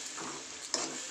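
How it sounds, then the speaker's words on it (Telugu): Tomato chutney with chilli powder being stirred in a pan, a short scrape of spoon through the thick mix over a soft sizzle, with a sharper clink near the end. "మిరప్పొడి వేసుకొని బాగా కలుపుకోవాలి"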